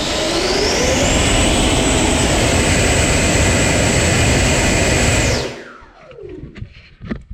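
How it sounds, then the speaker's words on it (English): FMS 2100kv V2 Platinum electric ducted fan on a thrust test in a Freewing F14, a loud, close, sustained high-pitched jet-like whine that holds full power, then spools down abruptly and fades away. "So this will be our FMS version 2 Platinum fans"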